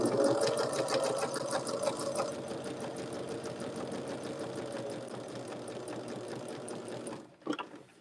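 A sewing machine stitches a Churn Dash quilt block with a scant quarter-inch seam along both sides of a marked line, running in a steady continuous whir for about seven seconds before stopping, then a brief knock.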